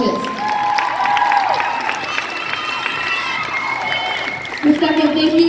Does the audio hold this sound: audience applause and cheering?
yes